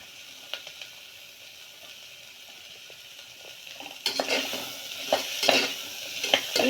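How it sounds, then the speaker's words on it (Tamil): Potatoes and beans drop into a pan and get stirred, with a spoon scraping and clinking against the metal and a soft sizzle, which starts quietly and turns busy and close partway through. "இப்போ பாருங்கள் உருளைக்கிழங்கு போடுறோம். இப்போ கொஞ்சம் பீன்ஸு இதை போட்டுக்கிறோம்."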